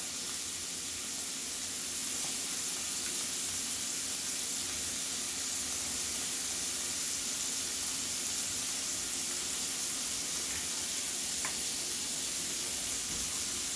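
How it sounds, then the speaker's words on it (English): A burger patty sizzles on a hot griddle with a steady, even hiss that runs throughout, fairly close and with no talking. "you see how your burger is cooking here?"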